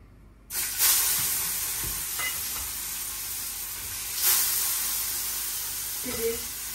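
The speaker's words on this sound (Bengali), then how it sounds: "এই যে এখন মাছটি ভেজে নেই" Fish, pre-rubbed with salt and turmeric, fries in hot oil in a pan, giving a steady loud sizzle that rises after a brief quiet start and swells again now and then as pieces shift.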